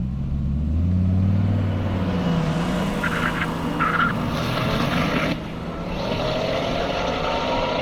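Dodge Viper and a roughly 1,000-horsepower Corvette Z06 launch down an airstrip drag course, a loud, sustained engine roar rising and sweeping past with tire noise, no voices.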